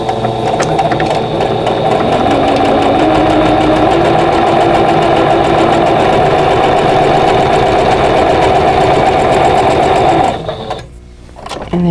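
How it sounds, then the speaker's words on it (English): A sewing machine with a 1/4 inch piecing foot and 50 weight thread runs steadily, stitching quilt block seams in a loud continuous whir for about ten seconds before briefly stopping and starting again. "I'm going to go ahead and stitch 1/4 inch away from both sides of this line"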